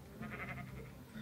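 A Minecraft sheep bleats in the Xbox 360 edition, a single wavering blocky bleat held for about a second over a steady low game hum, fairly close and moderately loud.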